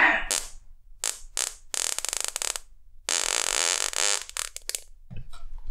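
Several loud, sputtering fart sounds come in bursts of varying length, one long drawn-out blast among them, separated by brief silences.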